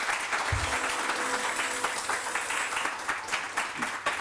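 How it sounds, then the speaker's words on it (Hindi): A studio audience on a morning talk show applauds, steady dense clapping throughout with a voice briefly heard over it. "कायनात के लिए तालियां बजाएं जीरो के लिए।"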